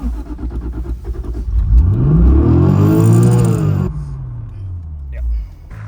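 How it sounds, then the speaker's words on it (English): A Toyota Supra MK4 engine revving by itself on startup, rising in a sustained swelling rev that holds for a couple of seconds then drops back to a rough idle, loud and close, with a voice talking over it. "yeah, the car just starts revving."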